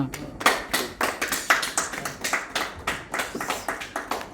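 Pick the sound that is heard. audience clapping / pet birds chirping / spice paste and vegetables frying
audience clapping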